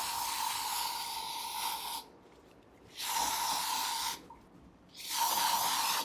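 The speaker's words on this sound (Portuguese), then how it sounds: "eu venho com um spray, que é antibactericida, um spray desinfetante," Three bursts of hissing antibacterial disinfectant aerosol spray, each lasting about a second or two with short gaps between, close and fairly loud.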